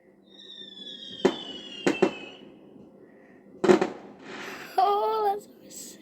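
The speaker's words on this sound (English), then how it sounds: "These fireworks are amazing!" Bonfire night fireworks going off outside a home: several sharp bangs and crackles, a whistling rocket streaking upward, and spaced pops at moderate distance, with a voice briefly exclaiming between blasts.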